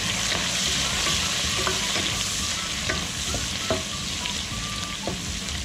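Onions fry in hot oil with cashews for vegetable masala rice, a loud continuous sizzle up close with scattered spoon scrapes and taps against the pan.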